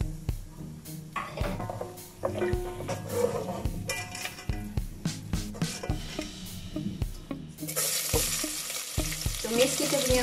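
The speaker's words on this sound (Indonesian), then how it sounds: "Dan kita goreng kita punya gajus." Cashew nuts frying in oil over low heat in a pan, being stirred, while cooking tomato rice; a steady sizzle with repeated scraping and stirring knocks, growing brighter and louder toward the end.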